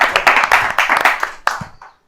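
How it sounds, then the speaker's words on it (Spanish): Close, loud clapping from a small group welcoming a guest at a talk, sharp individual hand claps in an uneven burst that quickly thins out and stops within two seconds. "Un aplauso,"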